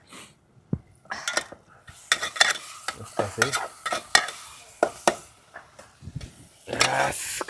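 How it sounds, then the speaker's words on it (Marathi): Oil sizzles steadily while onions fry in a pot on a wood-fired stove, broken by a series of sharp metal scrapes and clanks from a spoon stirring the pot, close by. "आता कांदा तळला त्याच्यामध्ये चटणी टाकली"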